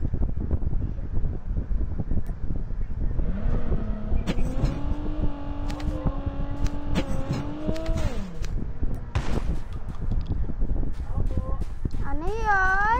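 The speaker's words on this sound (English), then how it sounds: "Vehicle here." A vehicle drives in a shooter video game, its engine droning and rising in pitch as it accelerates, amid game noise and players talking.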